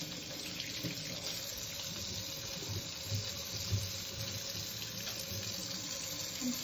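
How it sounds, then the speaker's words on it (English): A kitchen or bathroom tap runs steadily into a sink while hands are washed, a soft, even hiss of water that continues throughout with faint splashing. "Just washing my hands."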